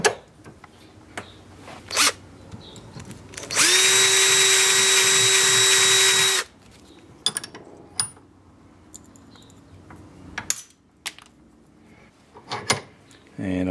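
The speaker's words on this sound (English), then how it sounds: "drill out that hole to the same size as your axle" A power drill whines steadily for about three seconds, loud and close, enlarging a hole in a wheel collar to axle size, between scattered clicks and handling noises.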